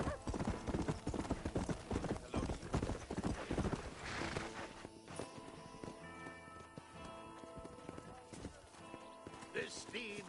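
Galloping horse in Red Dead Redemption, loud rapid hoofbeats for about four seconds that then fade under ambient game music, with brief speech nearby and a horse whinny implied near the start.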